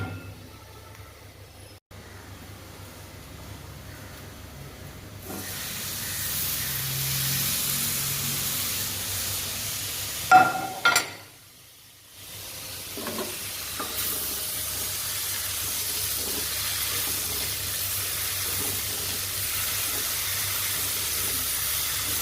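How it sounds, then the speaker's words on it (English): Broccoli, tofu and other vegetables cooking in their own steam in a pan with no oil or seasonings yet added, giving a steady close hiss and sizzle that briefly cuts out partway through, then resumes. "Just the vegetables are cooking in steam."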